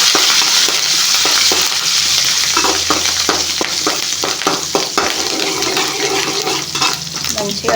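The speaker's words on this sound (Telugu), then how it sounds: "కరివేపాకు వేసుకొని కలిపేస్తున్నాము." Curry leaves sizzle steadily in hot oil in a pan while being stirred for chitrannam, a continuous loud frying hiss broken by repeated scraping stir strokes close by.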